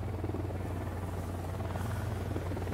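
A helicopter in the video game Ghost Recon Wildlands flies past, its rotor chop a steady, dense drone that holds at an even, fairly loud level without a break.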